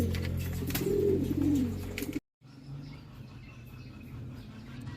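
Pigeons coo in soft, throaty repeated calls near a breeder cage outdoors, the cooing clearest in the first two seconds before a brief dropout and quieter background sounds.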